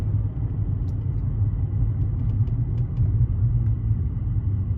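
A car engine idles close by with a steady, deep, low rumble that holds unchanged throughout, with no talking over it.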